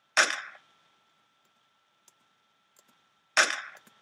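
A small pistol gunshot effect from the Action Essentials library: two sharp, loud cracks with short decaying tails about three seconds apart, separated by near silence and a few faint clicks.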